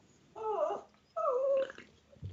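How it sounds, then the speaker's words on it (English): Two drawn-out, high-pitched dog whines come one after the other, each lasting about half a second and fairly close, with a soft thump at the end and no talking. "Is that a dog? A dog whining?"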